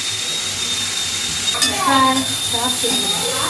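Onions sauté in a pan with a steady, loud sizzle that fills the whole moment, while a voice murmurs faintly underneath.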